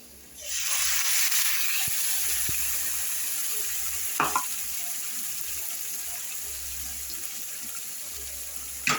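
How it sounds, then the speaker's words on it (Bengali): Potatoes with spices frying and being stirred in a pan, giving a steady close sizzle with a couple of sharp clinks of the spoon against the pan, and no talk. "এখন আমি এটাকে এইভাবে কষাবো"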